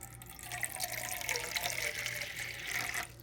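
Three-quarters of a cup of water is poured into flour and salt for air dry clay, giving a brief, close trickling splash lasting about three seconds with no talk.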